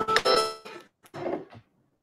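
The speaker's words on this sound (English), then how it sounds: "Sorry, that was my phone." A mobile phone rings during an indoor talk, sounding as a few bright, clear chiming tone bursts with short gaps before it falls silent.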